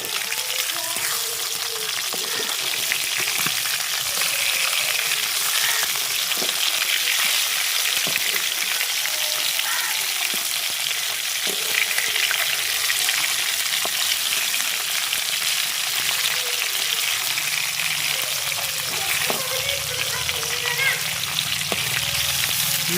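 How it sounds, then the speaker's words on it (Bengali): Rohu fish pieces sizzle and crackle steadily in hot oil, a dense continuous fry with occasional stirring clinks, close and fairly loud throughout, with no talk over it. "মাছ ভাজা হয়ে গেছে"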